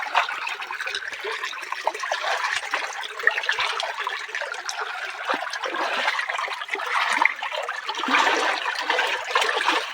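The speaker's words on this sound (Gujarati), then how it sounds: "મોટો સરસ મજાનું પાણી જાય" Water rushing steadily through an irrigation channel at a farm, a continuous close gurgling flow with small splashes and no talk.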